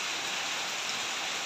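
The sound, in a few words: rain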